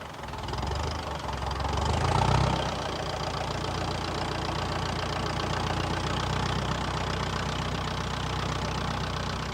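A Ferguson TE20 tractor engine idles steadily with a low, knocking mid-range chug, close and continuous throughout with no talking.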